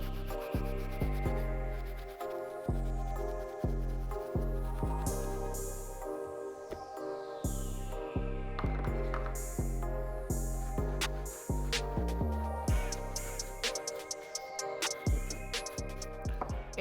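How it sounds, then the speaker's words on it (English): A soft bristle brush scrubs the inside of an Air Jordan 4 sneaker, giving steady close rubbing strokes with a busy scratchy texture that runs throughout, without any speech. "Continue using the soft bristle brush."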